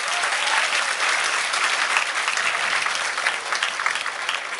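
An audience at a happiness and wellness workshop at a university claps loudly and continuously, a dense, even wash of applause with no voices.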